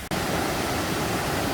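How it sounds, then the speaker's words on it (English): A mountain river in Daweishan Mountain National Forest Park rushes steadily, a dense, continuous roar of flowing water that stays loud and even from start to finish with no voices. "the water from the marshes are seeping through the soil. It's going through the mountains and it's ending up in this river here."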